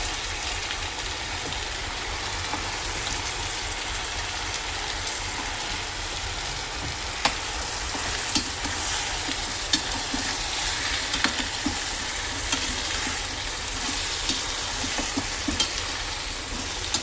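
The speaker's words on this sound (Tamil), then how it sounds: "இப்போ நம்ம இந்த காயை போட்டு எண்ணெயில் வதக்க போகிறோம்." Bottle gourd, brinjal and drumstick sauté in hot oil, giving a steady soft sizzle throughout with faint scattered stirring clicks and scrapes, close and without any voices.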